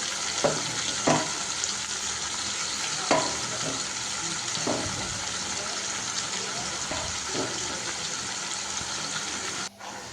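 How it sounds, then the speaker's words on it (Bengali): Marinated meat with a little potato frying in a pan over lowered heat, a steady close sizzle punctuated by several scraping stirs, with a voice talking at times. "তো আলুর মাংসটা এখন জালটা কমিয়ে ভেজে নিচ্ছে।"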